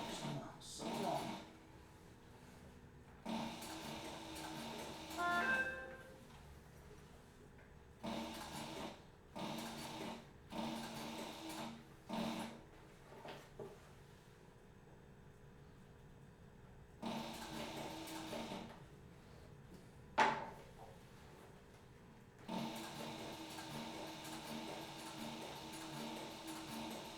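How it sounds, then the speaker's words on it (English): A sewing machine stitching a strap onto a children's backpack runs in repeated short bursts of whirring, stopping and starting, with a person talking quietly in the background. "I'm just going to sew it down just like you would any other strap or handle or whatever."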